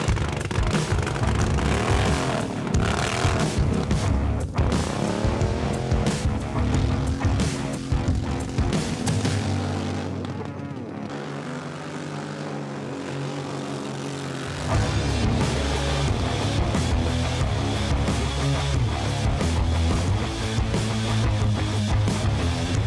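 A Barbie-themed camper vehicle drives along with a loud, droning engine. The rumble holds steady, eases off midway and then swells back up.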